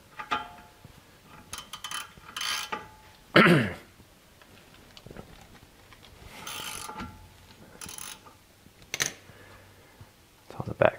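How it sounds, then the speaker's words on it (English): A 12 mm wrench works on a brake caliper bolt of a 1985 Toyota van, giving scattered metallic ratcheting clicks and scrapes at close range, with quiet gaps and a louder clank partway through. "I'm gonna use a 12 millimeter on the bottom side bolt on the caliper to swing it up and out of the way"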